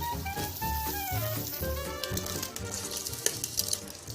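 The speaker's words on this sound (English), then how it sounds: "Can you hear it popping? I want to get this pancetta nice and crispy." Pancetta fries in a pan, a steady sizzle with scattered small pops and crackles, heard close over a faint melodic background.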